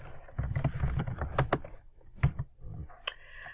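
Typing on a computer keyboard in irregular bursts of clicking keystrokes, close and fairly quiet, with brief pauses between runs and no talk.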